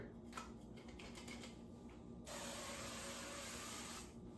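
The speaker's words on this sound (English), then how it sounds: "Spray the whole pan." A few short clicks and rattles, then a steady pressurized hiss of avocado oil cooking spray onto a pan lasting nearly two seconds, close by.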